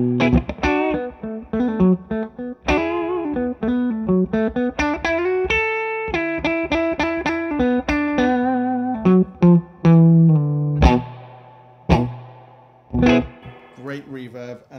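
Electric guitar through a Friedman Dirty Shirley amp with a classic reverb effect, distorted riffs and short melodic runs with ringing tails, punctuated by stops where the reverb decays.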